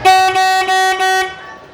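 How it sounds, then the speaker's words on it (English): A car-horn prop at a convention booth gives four quick, loud, steady honks in a row, each sounding much like a real car horn. The last tone hangs on briefly and then fades, with no voices over it. "Horny honker is your car horn."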